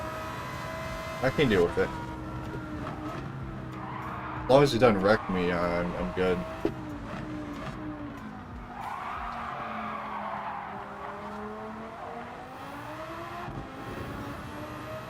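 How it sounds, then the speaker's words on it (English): Lamborghini Gallardo engine racing around the Nordschleife in a video game, a steady droning drone with rising and falling pitch sweeps, brief tire skids and revs around the middle, running under a person talking. "That engine sounds a little bit annoying"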